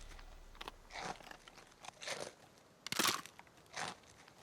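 Someone bites into crunchy apple spice muffins, making a series of four or five short, crisp crunches spaced about a second apart, quiet and close, with no talking.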